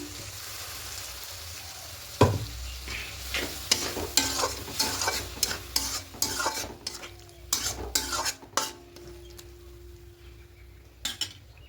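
A spoon stirs a frying mixture of beans and spices in a pan, with a steady low sizzle and repeated scraping and clinking strokes at irregular intervals, close and moderately loud, with no talk.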